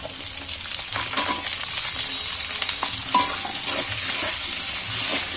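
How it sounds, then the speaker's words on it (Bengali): Ginger, garlic and onion frying in hot oil for a fish curry, a loud, steady sizzle and crackle with occasional stirring scrapes in the pan, continuous throughout with no talking. "আমি প্রথমেই তেলের মধ্যে আদা আর রসুনটা তুলে দিচ্ছি।"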